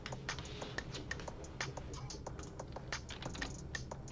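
Fast, steady typing on a computer keyboard, with close, crisp key clicks in an even rhythm and no voices.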